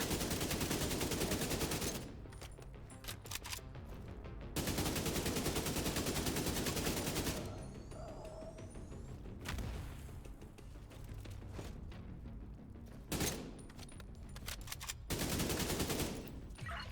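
Gunfire in The Division 2, Battle for Brooklyn: loud rapid bursts of automatic shooting alternate with quieter stretches of distant shots and mechanical clatter, in several separate volleys.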